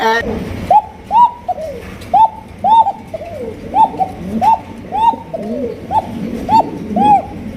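A pair of spangle stretcher pigeons coo close by in a repeated rhythmic series of soft, rolling calls, about one every half second.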